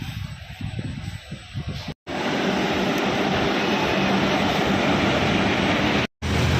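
A train at Begumpet railway station in Hyderabad, heard as a loud steady rumbling roar that fills the scene after a brief rougher start, with no talking.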